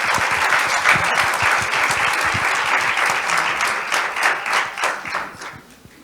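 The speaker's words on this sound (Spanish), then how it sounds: "Un fuerte aplauso para ellos." An audience at a cancer research open day breaks into loud, sustained applause, dense clapping that holds steady for several seconds before thinning and fading toward the end.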